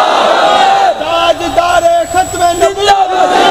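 A large crowd at a religious mehfil gathering in Pakistan shouting a loud chanted response to a slogan, several surging waves of massed voices close and strong, with brief dips between shouts.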